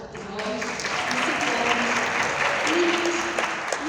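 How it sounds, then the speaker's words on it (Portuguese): Audience applause at a Brazilian gathering marking Human Consciousness day, a steady dense clapping that swells slightly and holds throughout, with faint voices murmuring and calling out beneath it. "Uma salva de palmas para todos nós"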